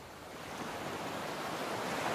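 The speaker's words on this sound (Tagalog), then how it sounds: "Hanggang sa marinig ko ang lagaslas ng alon na para bang may paparating." Sea waves lap and wash steadily against a quiet shore, a continuous broadband surf hiss that swells slightly louder toward the end, with a light wind rush and no voices.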